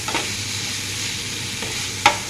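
Potato masala for masala dosa being stirred in a pan after garam masala of ground cardamom and cloves goes in, a soft continuous sizzle with a few sharp spoon scrapes against the pan, close up and without talk.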